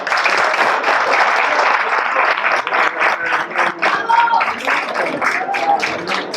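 Applause from an assembly hall after an election result, a steady burst of many hands clapping that thins into scattered claps, with faint voices mixed in toward the end.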